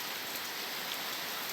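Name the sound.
rain falling beside the house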